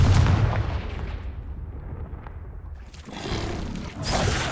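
The Confringo fire spell blasts in Hogwarts Legacy with a loud, booming burst that rolls off into a rumbling tail, then a second heavy impact swells near the end.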